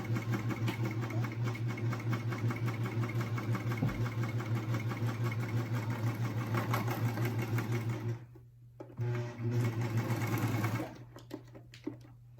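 A sewing machine hums and clatters steadily while stitching a seam on baby bummies, running for about eight seconds, then pausing and restarting in short bursts before stopping.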